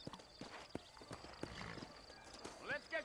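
Horse hooves clip-clop in steady, fairly quiet rhythm from the Western video game Red Dead Redemption, set in New Ulster, with a horse snorting near the end as someone talks over the hoofbeats.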